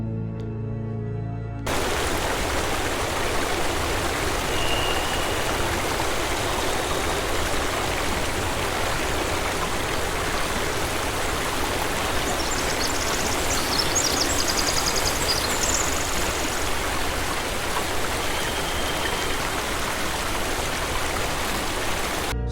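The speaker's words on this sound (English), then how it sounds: "if you listen very closely there, you could hear the river making a current there" A river current flows in a steady, unbroken rush of water that stays close and even throughout, with no voices over it.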